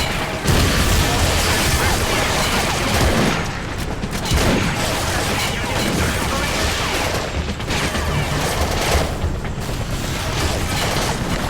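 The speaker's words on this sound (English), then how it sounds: "We are taking heavy fire from both tanks." Dense, continuous gunfire and heavy explosions from tanks in the Battlefield 2: Modern Combat video game, loud and close, with rapid bursts and booming blasts layered over one another throughout.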